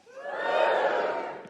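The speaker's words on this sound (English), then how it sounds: "Cheer if you are in relationships." A live comedy show audience cheering and whooping together for about a second and a half, a full crowd swell that rises quickly, holds, then fades.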